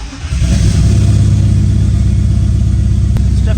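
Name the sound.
turbo BMW E46 engine starting and revving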